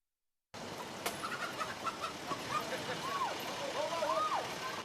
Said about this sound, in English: CHP officers chasing a chicken at the Bay Bridge Toll Plaza